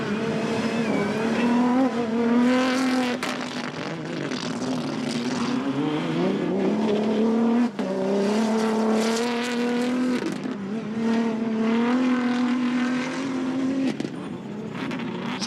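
Engine of a Redline Revo rally-raid car in a stage of the bp Ultimate Rally-Raid Portugal, running rough and unhealthy, droning loudly and continuously close by with rising and falling pitch as it passes through.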